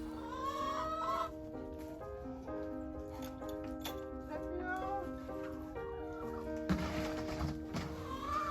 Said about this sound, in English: now we need to let out these chickens.